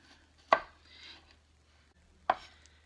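A sharp knife cuts through a tomato on a board, two crisp chops about two seconds apart, quiet and close, with a faint soft rustle between them and a low hum beneath.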